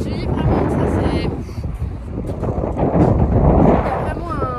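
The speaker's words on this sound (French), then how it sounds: "Il y a vraiment un vent de folie, je sais même pas si on entend quand je parle." Strong wind on a beach batters the microphone with loud, continuous rumbling buffets, while someone talks underneath it.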